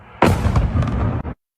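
Explosions in eastern Ukraine come as one heavy, booming blast that rumbles for about a second before cutting off sharply, loud and close with no voices.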